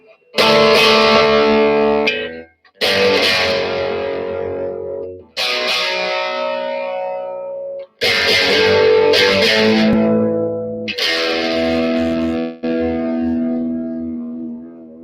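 Loud overdriven electric guitar chords through a Blackstar amp set to its UK voicing ring out one after another, each sustaining for a couple of seconds before the next strike.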